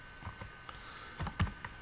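Quick bursts of typing on a computer keyboard while entering a Linux command to make a folder, soft clustered key clicks close by with brief pauses between.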